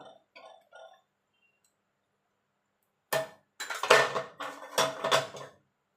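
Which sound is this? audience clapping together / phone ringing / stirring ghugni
stirring ghugni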